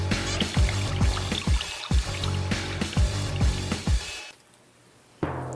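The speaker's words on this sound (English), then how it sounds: "Now fill it up with water." Water poured from close by into a column sealed with tape over its side holes, a run of rhythmic gulping, glugging pours that stop abruptly and leave near silence before a final sound.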